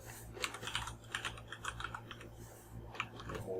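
Fingers tap a computer keyboard in quick close bursts of keystrokes with short pauses between them, over a low steady hum.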